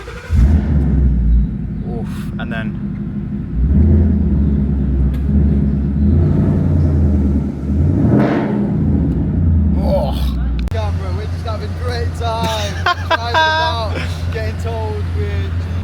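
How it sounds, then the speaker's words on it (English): A Ford Mustang's engine rumbles and rises in a loud rev at close range for several seconds, then settles toward idle. Someone speaks briefly near the end. "Little Mustang, listen to this."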